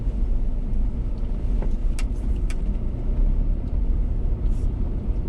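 A car rolls along a rain-dampened dirt road in rural Riachuelo, Sergipe, its engine and tires making a close, steady low rumble that continues throughout.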